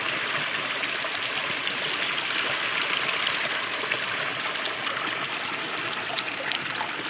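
A river at a campsite flows in a steady, close rushing babble of water that stays even and unbroken, with no voices over it.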